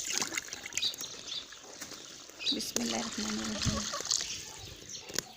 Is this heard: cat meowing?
no